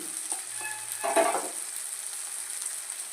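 Tomatoes with spices fry in a pan, giving a steady, close sizzle with a brief stirring scrape near the start, no voices.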